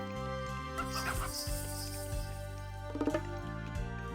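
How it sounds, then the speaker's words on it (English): Soft chicken clucks from the real-time strategy game Age of Mythology mingle with layered game music and ambient sound effects, with a brief cluster of clucks near the end. "We got some mystical chickens here."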